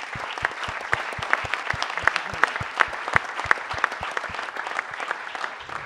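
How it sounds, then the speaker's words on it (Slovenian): Applause in a hall at a Slovenian film premiere, steady crowd clapping with distinct individual claps standing out near the front, continuing evenly for several seconds. "en aplavz zanj"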